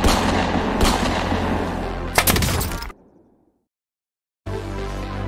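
Rapid gunfire bursts from a nail gun in a Call of Duty match, loud and close, cutting off abruptly into a second of silence before the dense game noise returns.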